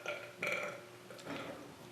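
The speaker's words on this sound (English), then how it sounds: "He had belched in my presence." Two or three rough, croaky burps come in quick succession, close and fairly loud, with no talking.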